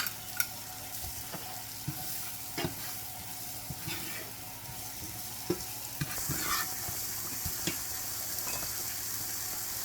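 Onion in butter sizzles in a pot for shrimp rasta pasta, a soft steady frying hiss punctuated by sharp clicks and scrapes of a utensil stirring, the sizzle swelling louder near the end.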